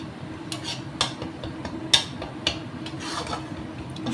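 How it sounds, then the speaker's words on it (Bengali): A spatula scrapes and taps against a pan in a run of sharp clinks over a low sizzle as spice masala is fried and stirred for a paneer curry. "তার আগে আমি আর একটু কষিয়ে নিচ্ছি মশলাটা।"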